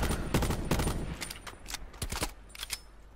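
Video game gunfire in Call of Duty Black Ops 4 Blackout cracks out in several rapid automatic bursts, loud and close, with short pauses between volleys.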